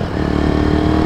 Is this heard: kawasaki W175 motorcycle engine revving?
yes